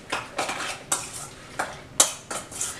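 Egg foo young egg mixture stirred in a bowl, a series of sharp utensil clinks and scrapes against the bowl at an irregular rhythm, close and clear with no talking.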